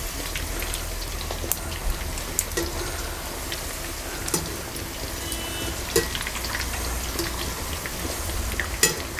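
Chicken 65 deep frying in hot oil, a constant rain-like crackle and bubbling with scattered sharp pops throughout, unaccompanied by speech.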